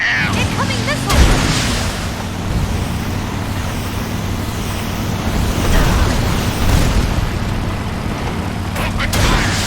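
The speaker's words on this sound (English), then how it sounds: "Incoming missile!" An incoming missile explodes in Metal Gear Solid Delta, a loud, sustained roar of blast and rumbling debris with sharp bangs near the start and rising surges later; a voice is heard shouting amid the chaos.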